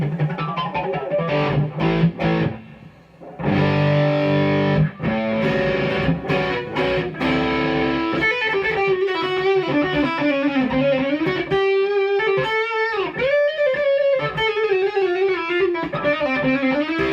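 Electric guitar, a Mexican Telecaster with a Joe Barden bridge humbucker, all volume and tone controls on full, through an amp with a bright, slightly gritty edge: strummed chords at first, then single-note melodic lines with bends, played alone and fairly loud.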